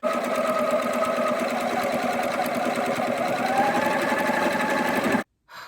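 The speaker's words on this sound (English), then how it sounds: "I accidentally had my sewing machine set to a zigzag stitch." A sewing machine runs steadily at close range on a zigzag stitch through fabric, its rapid mechanical stitching humming for several seconds before stopping abruptly, then a brief faint restart.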